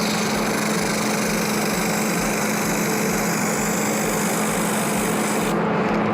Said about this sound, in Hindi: अब हम इसके दूसरे एंड पे वेल्डिंग कर लेते हैं।